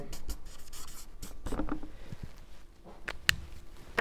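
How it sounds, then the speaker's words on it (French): A pen writes by hand on paper in short scratchy strokes with small pauses between them. The strokes sound close and fairly quiet, with a sharp tap near the end. "Je vais essayer de bien l'écrire."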